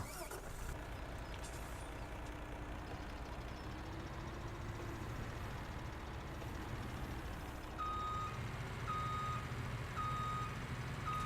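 Truck reversing beeps from Farming Simulator 17, a steady repeating electronic tone over a loud engine rumble, with an air brake hiss partway through.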